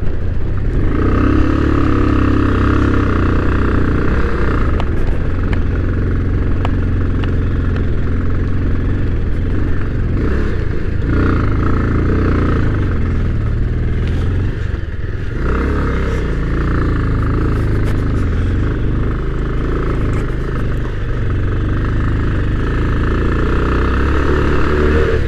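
Motorbike engine labouring continuously on a rough mountain road in Zanskar, Ladakh, during a solo ride, a steady loud drone with slight revving dips and wind noise throughout.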